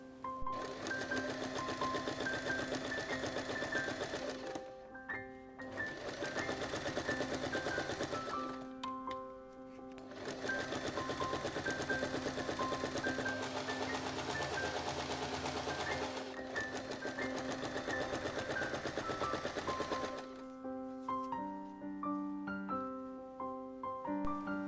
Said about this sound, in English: Sew through all the layers along the curved edge.